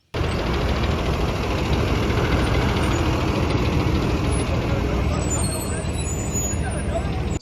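Buses idle with a continuous, loud, broadband engine drone that holds steady throughout as people board.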